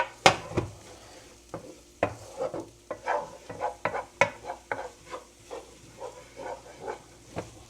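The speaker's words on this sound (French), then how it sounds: "je vais mettre l'ail. Environ 1 minute. En essayant de ne pas le faire brûler" Garlic frying in a pan, a steady soft sizzle broken by frequent scraping stirs of a utensil against the pan, close and fairly quiet.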